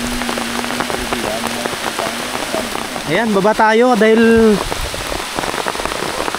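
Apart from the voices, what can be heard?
heavy rain falling outdoors on a farm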